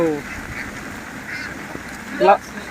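Farm ducks being fed paddy give a few short, nasal quacks, one near the start and a louder burst near the end, over a low background hiss.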